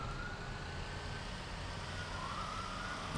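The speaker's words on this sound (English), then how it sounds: "I hear that siren. That siren kind of throwing me off." A video game police siren wails faintly in the distance, a thin rising tone over a low, steady rumble of background noise.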